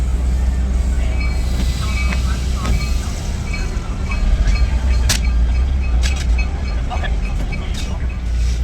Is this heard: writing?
no